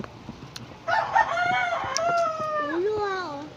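A rooster crows once, close and loud, a drawn-out cock-a-doodle-doo rising and then falling over a couple of seconds above a quiet background.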